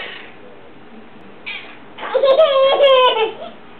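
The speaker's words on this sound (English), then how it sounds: "Where's the cat?" A pet cat gives a short call, then a longer, louder drawn-out meow close by, with a person speaking briefly around it.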